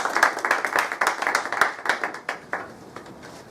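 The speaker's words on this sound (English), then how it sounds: "let's give him a warm round of applause" An audience gives a warm round of applause to a speaker introduced before a talk on communicating scientific ideas, dense and close at first, then thinning to a few scattered claps.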